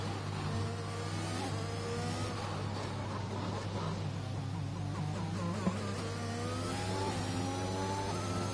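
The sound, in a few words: racing car engine in Singapore Grand Prix racing video game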